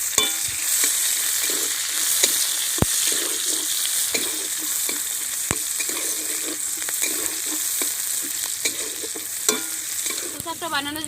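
Bay leaf, dried red chilli and onion sizzle steadily in hot oil for a Bengali crab and greens dish, a continuous close frying hiss broken by sharp stirring scrapes and clinks, with no voices.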